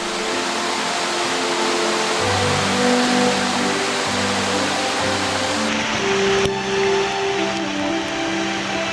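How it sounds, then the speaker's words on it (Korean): A waterfall pours between rocky cliffs and warm-temperate forest on Jeju after rain, a steady broad rushing of water heard throughout beneath soft sustained musical tones. "기암절벽과 천연 난대림 사이로 쏟아지는 시원한 물줄기."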